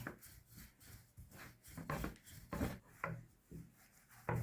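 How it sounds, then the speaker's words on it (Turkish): A wooden rolling pin rolls out floured pastry dough for börek, giving soft, repeated rubbing and thudding strokes in an uneven rhythm, quiet and close, with no voices. "Evet oklavayla açabildiğimiz kadar açıyoruz."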